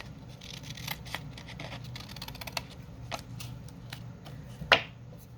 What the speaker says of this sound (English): This one is going to be a tag, and I'm going to cut it down a little bit more.